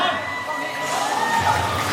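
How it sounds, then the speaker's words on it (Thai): A crowd of supporters cheers and shouts loudly at a swimwear round of a Thai beach pageant, a steady busy roar of many voices. "ขอเสียงกองเชียร์กันเยอะ"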